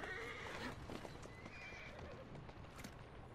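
A horse whinnies and its hooves clip-clop on the street in the video game Assassin's Creed Syndicate, the neigh near and clear over steady hoofbeats, quiet overall.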